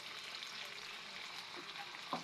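Squid frying in a pan gives a steady, even sizzle throughout, fairly faint, with a small clink near the end and no talking.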